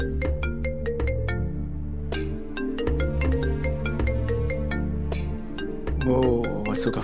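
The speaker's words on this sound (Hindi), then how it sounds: "वो वसु का फोन है" A phone ringtone plays a bright, looping electronic melody, loud and continuous from start to finish.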